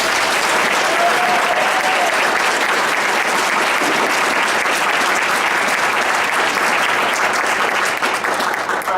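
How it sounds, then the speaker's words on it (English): Sustained, dense applause fills a police graduation ceremony hall for class 12-03, a large audience clapping loudly and evenly throughout with no break. "give them a round of applause."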